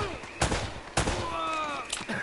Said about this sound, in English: Okay, there's definitely a shootout.